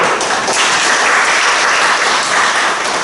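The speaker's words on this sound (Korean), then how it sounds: "박수!" A seated audience at a Korean academic conference session gives dense, steady applause to welcome the next presenter. It runs continuously and evenly for about three seconds, with no talking over it.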